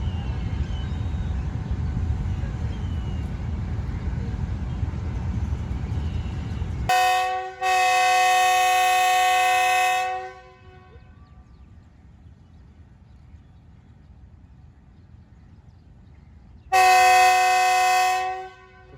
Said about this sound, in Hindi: तो फिर से विसल्स हुए हैं, इनिशियल भी और फाइनल भी।